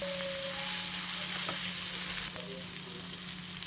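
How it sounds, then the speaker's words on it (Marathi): Garlic, tomato and curry leaves sizzle steadily in hot oil in a pan, a constant close crackling hiss that eases slightly in the second half, with no voices. "पॅनमध्ये तेल घातलेलं आहे लसूण घालूया घालूया टोमॅटो घालून घेऊया आणि कढीपत्ता घातला"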